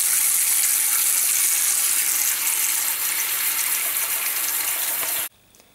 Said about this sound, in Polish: Zatykamy zlew, nalewamy zimną wodę i wstawiamy garnek do zlewu